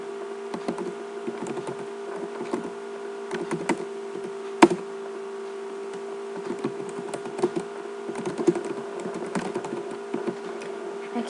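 Light, irregular key taps come from a computer keyboard as text is typed into a PowerPoint slide. The clicks are soft and scattered, with one sharper tap, over a steady background hum.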